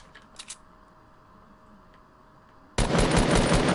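Fortnite gunfire: a sudden loud burst of shots cuts in near the end after a quiet stretch with a few faint clicks, dense and close.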